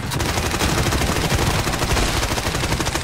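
Dense bursts of rapid automatic gunfire crackle continuously and loudly for the whole stretch, shots overlapping with no pauses.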